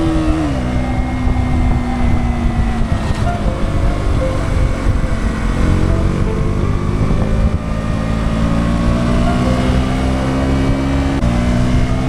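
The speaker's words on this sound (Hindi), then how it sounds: "This bike is KTM Duke 200" A KTM Duke 200 motorcycle ridden on a highway, its engine droning steadily and loudly for the whole stretch with small shifts in pitch as the revs change, mixed with constant wind rush and no talking.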